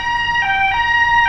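Beneath a Nairobi highway, an ambulance siren wails close and loud, its steady tones shifting pitch in quick repeated cycles, with no voices over it.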